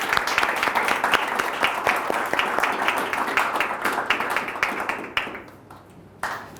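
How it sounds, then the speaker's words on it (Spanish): Audience at a lecture applauding a speaker, sustained crowd clapping that tapers off and ends with a few scattered claps. "démosle un gran aplauso a Vanessa y la bienvenida para poder escuchar"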